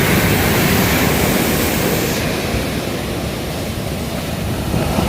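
Rough sea surf crashing and rolling continuously onto the shore in stormy, low-pressure weather, a loud, steady broadband roar with wind buffeting the microphone and no voices.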